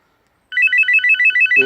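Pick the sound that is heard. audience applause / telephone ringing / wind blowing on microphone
telephone ringing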